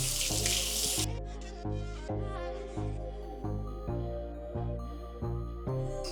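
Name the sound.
water rinsing a brake caliper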